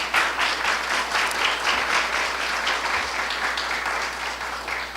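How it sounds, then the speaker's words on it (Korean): Steady applause for the lecturers at the close of a 2013 startup agency lecture event, an even wash of many hands clapping throughout at moderate volume. "많은 질의응답을 성실하게 답변해 주신 저희 강연자 여러분들께 다시 한번 감사의 박수"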